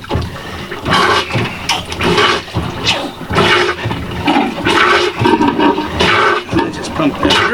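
Repeated rhythmic sloshing and gurgling of water being pumped through a boat's marine toilet during winterizing, steady strokes at close range with faint background noise.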